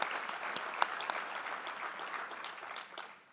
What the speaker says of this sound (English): let's give the entire team at Spokane County a round of applause